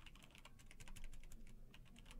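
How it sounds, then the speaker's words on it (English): Fast, steady clicking of a computer keyboard at a card game tournament, keys tapped in quick irregular bursts at low volume with no talking. "Typing."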